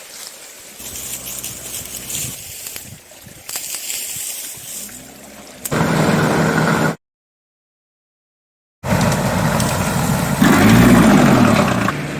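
A tractor engine works a mountain vegetable garden, a steady rumbling drone that rises to a loud, close run near the end, broken by a brief total gap, with scraping and knocking earlier on.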